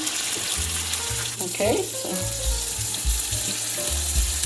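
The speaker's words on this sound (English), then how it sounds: "So make sure you put the seam down when you fry them." Panzerotti fry in hot oil with a steady, moderate sizzle and bubbling, close by, while a person speaks briefly over it.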